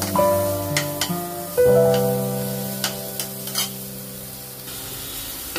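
Spice masala for paneer dopiaza sizzles and fries in oil as it is stirred, with soft scraping taps over steady frying, while sustained musical tones play underneath.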